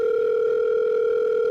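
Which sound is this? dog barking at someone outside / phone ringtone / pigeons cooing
phone ringtone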